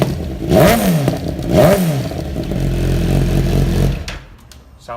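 A 2015 Suzuki GSXR1000 L5 with a Yoshimura exhaust cranks and fires up close by, giving two sharp revving blips followed by a steady, throaty idle that cuts off near the end.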